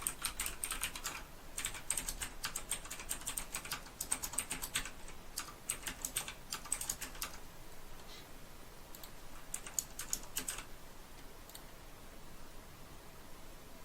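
Personal details being typed on a computer keyboard, a fast, steady run of close, quiet key clicks in bursts with brief pauses, over a faint background hiss.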